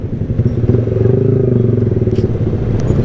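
A Yamaha R15 v3 sport motorcycle engine runs loudly and close during a ride, with a steady throbbing drone and a slight rattle throughout.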